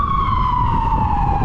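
Emergency vehicle siren, fire truck or paramedic, on a city street in Cincinnati, Ohio: a loud, steady wailing tone slowly sliding downward over a rumbling traffic background, close by.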